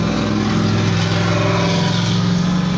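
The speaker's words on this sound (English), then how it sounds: "sorry for the noise inside, but I'm doing this on the road" Interior road noise from a moving car, a dense, steady rumble and engine hum that stays loud and unchanging throughout, with no voices.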